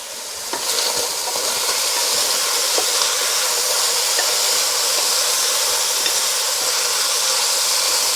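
Meat searing in a hot pan for a carnivore cookup gives a loud, steady sizzle and hiss that holds unbroken throughout, with no talking.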